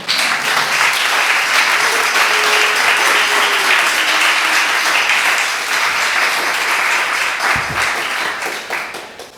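An audience at a contemporary poetry reading applauds to welcome poet David Lehman, a dense, loud, sustained clapping that continues for several seconds before thinning out at the end.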